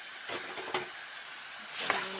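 Pieces of elephant apple (outenga) dropped into a hot pan give off a soft, steady hissing sizzle that swells briefly near the end, faint and close with no voices.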